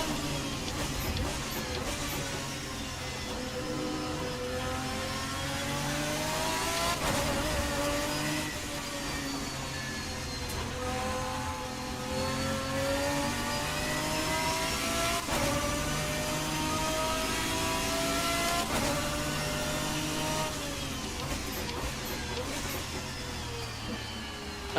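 GT1 race car engines in the racing game Assetto Corsa, at the Okayama circuit, roar continuously and loudly. Engine pitch climbs through repeated gear changes and drops between them, with no talking.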